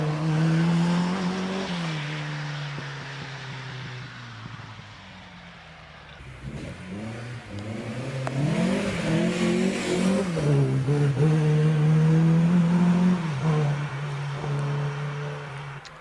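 A modified, lowered Triumph TR4 racing car at the Prescott hill climb, its engine loud and close, revving up and down through gear changes and surging to a sustained high-revving roar as it powers through, with no talk.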